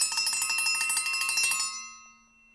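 A single-leaf triangle dinner bell is rung rapidly, producing a bright, loud metallic clatter of quick repeated strikes for under two seconds before the tone rings out and fades.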